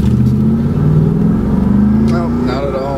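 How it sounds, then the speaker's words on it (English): A 1985 Pontiac Trans Am of about 385 horsepower revs loudly and steadily while its driver tries to make the wheels spin, with the engine note rising and falling close by and voices talking over it. "See if we can get a little wheel spin out of this car."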